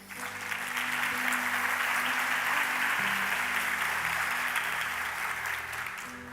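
A church congregation applauds during a sermon, steady dense clapping from many hands that holds for several seconds with a low organ or keyboard playing underneath.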